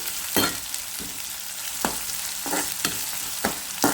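Onions sizzle steadily in a hot pan, frying until reddish, with a spoon scraping and stirring every half second or so, close and fairly loud, no talking.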